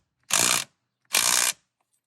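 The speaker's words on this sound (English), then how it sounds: "Got my handy dandy impact, 24 millimeter." An impact wrench tightens the 24 mm center nut on the steering wheel of a 2015-2021 Ford Mustang S550, two loud buzzing bursts of rapid hammering about half a second each, separated by a short pause.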